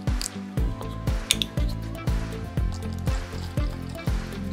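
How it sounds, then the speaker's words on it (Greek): Water is poured onto a towel for washing while on the road, giving splashing, dripping sounds in close, uneven bursts with no talking. "Ρίχνουμε εδώ νεράκι"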